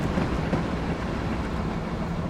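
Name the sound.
Amtrak regional train passing, from video game Train Simulator 2020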